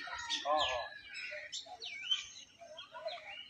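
Myna and crow calls near a nest: a string of bright chirps and harsher caws follows one after another, moderately close, with faint talk in the background.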